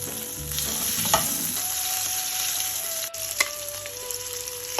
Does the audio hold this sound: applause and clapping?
no